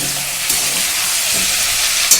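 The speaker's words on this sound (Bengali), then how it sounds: "আর এদিকে আমার মাছের মাথাটাও কিন্তু ভাজা হচ্ছে" A fish head fries in a pan, giving a steady, loud, close-up sizzle of hot oil that runs unbroken throughout, with a few brief spatters and pops near the end.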